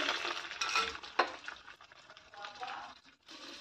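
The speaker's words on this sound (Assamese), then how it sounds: "এইফালে ডিম 2টা প্ৰথমতে ভাজি লওঁ অকণমান মই ধুনীয়াকৈ।" Two eggs fry in a pan with a light, steady sizzle, broken by scraping and clinking from stirring and one sharper knock of a utensil.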